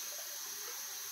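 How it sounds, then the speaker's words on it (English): Water runs steadily from a sink tap, a constant soft hiss and splash with no breaks, fairly faint and heard alone. "Enjoy the sound of running water."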